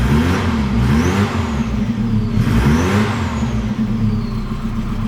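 A car engine with a slipping alternator belt runs steadily and loudly close by, with a faint rising whine riding over the engine drone and swelling twice as the revs lift.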